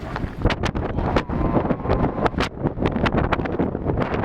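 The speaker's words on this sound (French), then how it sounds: "Et ça souffle vraiment fort. Il y a des grosses rafales de temps en temps." Strong wind gusts buffet a tent outdoors in Africa, loud irregular bursts of flapping and rushing air striking the microphone in rapid succession, close and with no voices.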